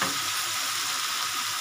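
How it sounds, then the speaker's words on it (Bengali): Ghugni masala sautéing in oil in a kadai, a close, even, continuous sizzle with no talk. "এটা যত সাঁতলাবো তত এটা ভালো আসবে"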